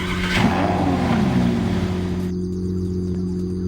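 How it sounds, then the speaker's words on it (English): A modded sports car in the video game Unturned, styled like a Lamborghini, revs its engine with a steady droning tone that rises briefly and then settles into a constant hum. "Wow, just the sound of these vehicles."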